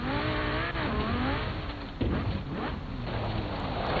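A car in Forza Horizon 4 accelerates uphill, its engine note climbing steadily through rising revs with a brief dip at a gear change, loud and continuous with no talk over it.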